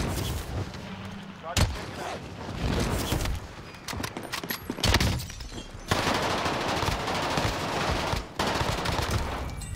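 MP40 submachine gun fired from the hip in Call of Duty on Rebirth Island, with dense, rapid automatic bursts, loud and close, broken by short pauses and mixed with other battle noise.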